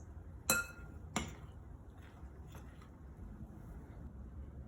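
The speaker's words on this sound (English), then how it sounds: "And now we're going to mix." Cornstarch and water being stirred in a glass bowl for a squish experiment, with two sharp clinks against the glass near the start, then softer scraping and tapping sounds as the mixing continues.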